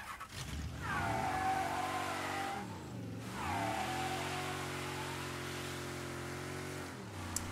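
A car engine in the video game Mafia III revs and accelerates through several gear shifts, a steady mid-pitched drone rising and dropping, with no talk.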